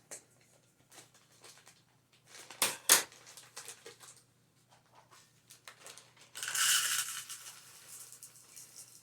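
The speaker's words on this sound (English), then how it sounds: "My hands are a little too greasy from the peanut butter to rip it, so we'll use our scissors." Scissors snipping open a plastic bag of chocolate chips in a kitchen during plant-based granola bar preparation: a couple of sharp close cuts followed by a burst of crinkly plastic rustling.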